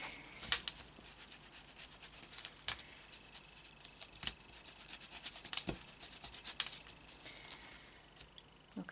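Soft, repeated dry rubbing and light patting as Vintage Photo ink is worked over a paper envelope design, faint and close with scattered small taps.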